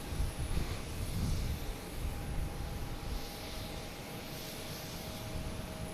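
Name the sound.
JetBlue jet airliner taking off from Boston Logan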